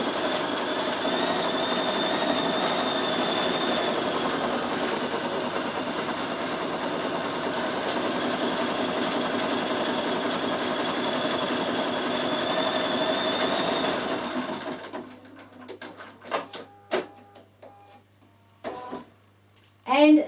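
A Bernina 7 Series sewing machine with embroidery module stitches steadily with an even mechanical whir, then stops and trims the thread with a few sharp clicks and snips.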